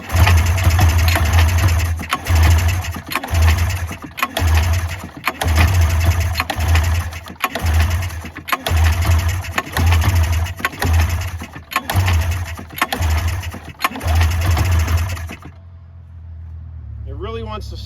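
A Polaris Indy snowmobile engine with freshly cleaned carburetors cranks repeatedly without catching, giving a loud, rhythmic pulsing churn of about a dozen strokes, close up, that stops abruptly.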